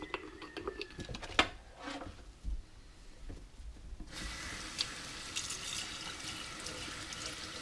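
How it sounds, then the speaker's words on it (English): Water runs from a sink tap while glass canning jars are washed with soap, giving splashing and sloshing with a few clinks, fairly quiet, then settling into a steady hiss of flowing water. "I like to wash them with soap and water"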